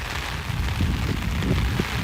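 Heavy rain falling steadily, a dense, continuous rushing patter with low rumbling undertones, close and fairly loud, with no voices.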